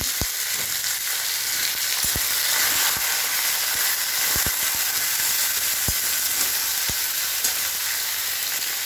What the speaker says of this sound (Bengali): ভালো করে সবজিটা ভেজে নেবো।